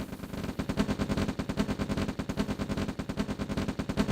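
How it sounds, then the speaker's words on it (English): Continuous rapid rifle fire from OpenRA Red Alert, a fast, even rattle of shots that keeps going without pause at moderate loudness. "Now they're shooting at that"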